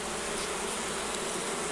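Honey bees buzzing steadily inside an opened hive, a dense close-up drone that holds an even level throughout with no talking.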